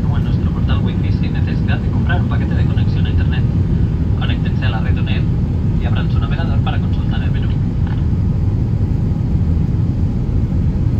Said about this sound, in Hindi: ये देखिए जहाज़ इस तरह हिल रहा है और बादलों में से गुजर रहा है।